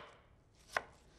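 A knife strikes a cutting board once as an onion is diced into small pieces during preparation of Turkish potato köfte, a single sharp, close chop over quiet room tone.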